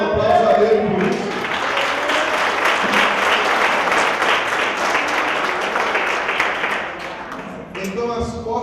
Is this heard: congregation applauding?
yes